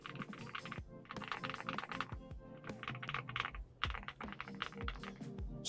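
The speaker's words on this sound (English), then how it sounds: "This keyboard sounds so nice." Steady, fast typing on a NuPhy Gem80 mechanical TKL keyboard built with stock components, a close, crisp run of clacky keystrokes with occasional heavier thocks from larger keys, heard alone with no talking.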